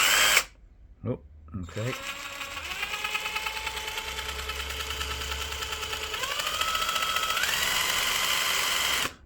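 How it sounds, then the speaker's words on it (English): An electric screwdriver spins a Honda GL1000 Goldwing motorcycle engine, giving a continuous whirring drone that rises in pitch as it speeds up, with a brief spoken word near the start. "all I'm using is, say, just this electric screwdriver, which I'm going to put in there, and then spin this and see what we get"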